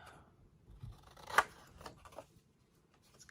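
Scissors snipping the corners off a handmade specimen card for a junk journal: a few quiet, isolated cuts, one crisp snip standing out, set against a soft room background.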